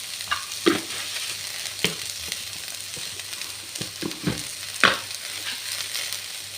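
Spices such as cumin and coriander frying in a pan for a home-style Tulu gravy, a steady close sizzle with occasional scraping and knocking strokes as they are stirred.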